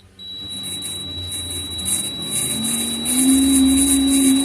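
A homemade wind-turbine generator built from a motor spins up with a steady high whine, and a low tone rises in pitch as it gathers speed, loud and close.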